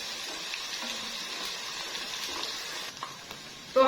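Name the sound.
ginger garlic paste frying with onions in a pan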